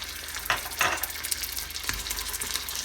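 Caramel of melted butter and sugar foaming after baking soda goes in, a steady bubbling sizzle with several scraping stirs of a spoon across the pan, no voices.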